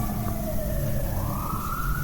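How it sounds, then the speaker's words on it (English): Fire truck and ambulance sirens wail outside, loud and continuous, with the pitch sliding and rising over a low traffic rumble. "I know y'all hear them fire trucks and ambulance"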